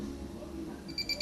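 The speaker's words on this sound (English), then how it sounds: "the tester is beeping, which tells me that the discharge test is finished" Portable jump starter's discharge tester beeping at the end of a capacity test, three short high electronic beeps near the end, close and clear over a low steady hum.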